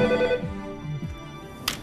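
A telephone ringing at a gendarmerie police station, its electronic ring tone sounding in a short burst, moderately loud and close, with faint background noise.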